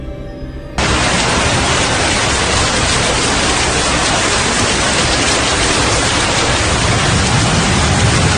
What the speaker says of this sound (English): Heavy rain caused flash floods in La Paz, Bolivia, inundating the city's streets